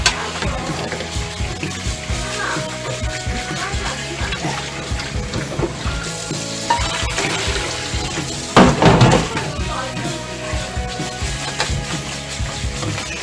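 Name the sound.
rinsing food under cold running tap water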